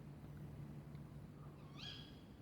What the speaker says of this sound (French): On a un concert de chouettes.